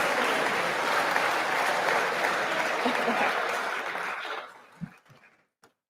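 An audience claps at a school upper school closing ceremony, a dense sustained round of applause that fades out after about four seconds, followed by a few scattered claps.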